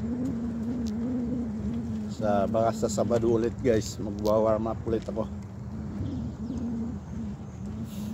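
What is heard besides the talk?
birds being fed, cooing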